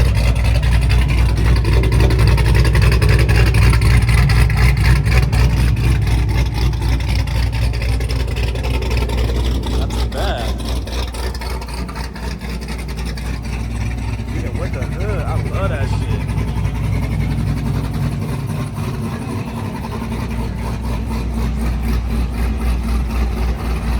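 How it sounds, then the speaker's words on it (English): Deep, steady engine rumble from a 1000-horsepower Cadillac CT5-V Blackwing, loud and continuous with idling throb and slight swells in level, close by throughout. "So that's Auto Addict CT5 V 1000 horsepower Blackwing. That motherfucker sound good, man."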